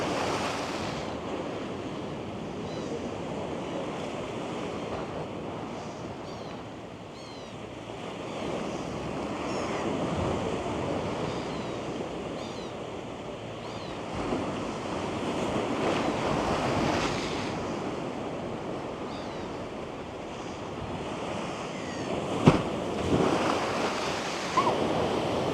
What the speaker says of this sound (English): then I'll go film the waves up near the other wall where it's closer in